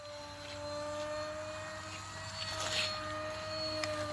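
A small NIBBLO radio-controlled low-wing airplane at full throttle, its electric motor and propeller giving a steady high-pitched whine that holds level and swells slightly as it passes, with no voices.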